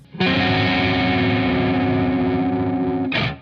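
A single distorted electric guitar chord rings out loud and sustained for about three seconds, then is cut off by a brief noisy burst.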